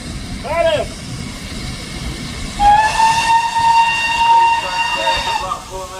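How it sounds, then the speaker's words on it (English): A train on the Great Central Railway rumbles into the platform with a brief whistle followed by a long, steady horn blast, its rolling noise building close by. "train approaching"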